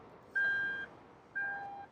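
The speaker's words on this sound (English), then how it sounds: "power tailgate standard, so either you can press the button here or kick to close" Two clear electronic beeps, a long tone then a shorter one about a second apart, sound as the power tailgate of a 2025 BMW M440i xDrive Coupe closes, close and distinct over quiet background.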